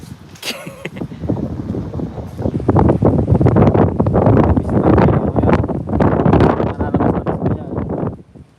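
Typhoon Fuwong winds in Taiwan roar and buffet the microphone in heavy, sustained gusts that swell and ease over several seconds before dropping off at the end.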